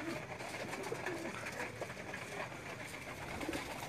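Pigeons perched on a village rooftop coo softly in repeated low, throaty phrases over steady outdoor background noise, fairly close but quiet.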